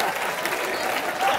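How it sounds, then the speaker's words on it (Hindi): A studio audience at a Hindi comedy show claps in a continuous, even wash of applause, fairly loud and unbroken from start to finish. "जोरदार तालियां हो जाए।"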